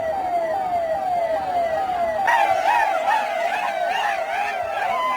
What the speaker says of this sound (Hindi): पुलिस की कार में जो सायरन लगा होता है टॉ टॉ टॉ